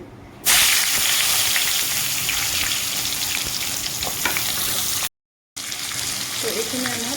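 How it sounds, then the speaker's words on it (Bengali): Pointed gourd sizzles and crackles steadily in hot oil at close range, the hiss cutting out briefly near the end before resuming. "এখন আমি পটলগুলো ভেজে রাখবো"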